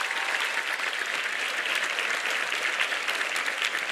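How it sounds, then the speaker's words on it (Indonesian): Audience applause at an Indonesian religious youth event with pesantren students, clerics and officials, a continuous, even wash of many hands clapping from a large crowd, moderately loud and without voices over it. "Tepuk tangan dulu buat semuanya."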